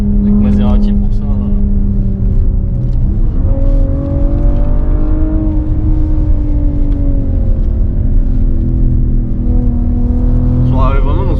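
The engine of a 2021 Maserati Levante S drones steadily from inside the cabin as the car accelerates and its tone rises and falls through the gears, with voices talking over it at the start and end.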